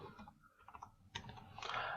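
Keys struck on a computer keyboard while a file name is typed, a short run of light, irregular clicks, close and fairly quiet over low room noise.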